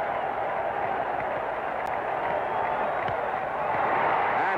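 A baseball stadium crowd roars steadily at a 1967 Boston Red Sox game against the Twins in the sixth inning, a dense, continuous wash of cheering that stays loud and unbroken throughout.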